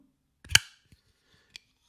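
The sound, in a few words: New Breed Clydesdale pocket knife opened with thumb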